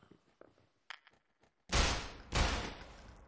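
Two loud, booming gunshots in the game Estranged: Act 1, fired in a sewer setting, come close together after a stretch of faint, scattered sounds.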